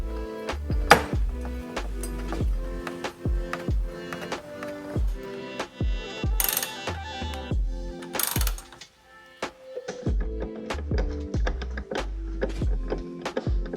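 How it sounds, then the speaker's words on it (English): A ratchet tightens bolts on a vehicle bracket while auxiliary switch lights are installed. Close, rapid bursts of sharp metallic clicking repeat through the clip, separated by short pauses and some clanking. "All these bolts are tightened down."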